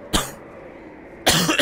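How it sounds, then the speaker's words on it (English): Two sharp coughs from a person, the first brief and the second longer and harsher, about a second apart with quiet in between. "Coughing everywhere."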